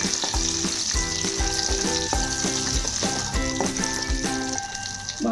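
Tempering spices crackle and sizzle briskly in hot oil with occasional stirring while cooking Andhra-style bottle gourd dappalam, while soft music plays steadily in the background.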